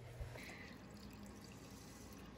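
Water is poured into a pot of rice in a home kitchen, a faint steady trickle and splash heard at low level with a brief thump near the start.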